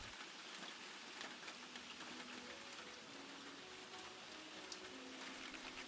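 Continuous rain falling in the video game Dry Drowning, an even wash of drops and hiss with a faint low tonal hum beneath, steady throughout with no talking.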